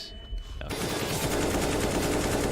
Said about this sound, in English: He gets the shot out of Magisk, it baits him to fire, and then it's Tarek to just win the duel